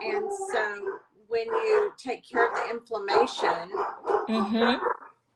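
Dogs bark repeatedly in close, loud bursts with yips and whimpers, overlapping a person talking indoors.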